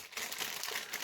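Plastic foil packaging being crinkled up close, a dense, continuous crackling rustle lasting about a second, alone without speech.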